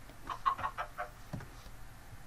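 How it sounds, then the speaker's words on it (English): A chicken in the Minecraft Orespawn mod clucks in a short run of soft, clipped calls, then falls quiet under a low game background. "Poor chicken."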